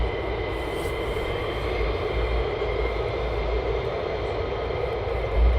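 F-15 fighter jets over RAF Lakenheath, a distant, steady jet rumble and roar that swells slightly near the end.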